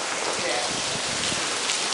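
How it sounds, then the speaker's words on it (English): Rain pours down outdoors in a constant close hiss of drops striking surfaces, unbroken and fairly loud throughout, with no clear speech on top. "Okay, now it's raining all over here."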